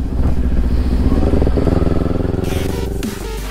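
Motorcycle engine droning steadily at road speed on a Sunday group ride in New Zealand, loud and close with constant rumble and wind rush, no talking over it.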